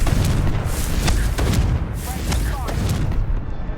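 A spell blast in the Hogwarts Legacy video game, heard as a loud, dense booming burst with repeated explosive thumps and rumbling that fill the whole moment.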